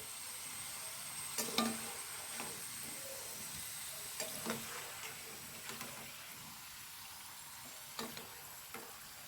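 Raw plantain slices frying in hot oil, a continuous soft hiss of sizzling with occasional sharp pops and spoon clinks, close but fairly quiet, no talking.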